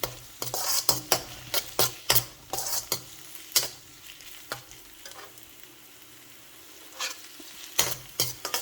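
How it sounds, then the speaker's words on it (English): Chopped white onions sautéing with cumin seeds in a pan over medium heat, with sharp scraping spatula strokes in quick bursts over a soft, quiet sizzle that drops away briefly before the stirring resumes. "add roughly chopped white onions and saute it till it's golden"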